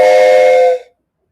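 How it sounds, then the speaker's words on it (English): A wooden train whistle with four chambers of different lengths gives one loud, chord-like blast lasting under a second, then stops abruptly into silence. "So I'm going to play the train whistle for you."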